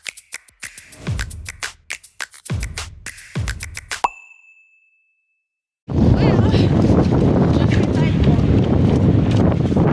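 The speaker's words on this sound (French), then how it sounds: "Le vent ça réveille hein." Strong storm wind roars steadily into the microphone after a stretch of scraping and tapping noises and a brief silence.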